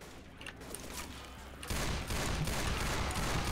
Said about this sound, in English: I'm shooting at this fucking thing